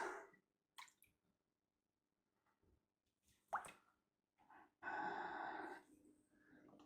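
An external aquarium filter drawing water out of a home fish tank, heard as scattered close drips and plops, then a sustained gurgling rush of water near the end.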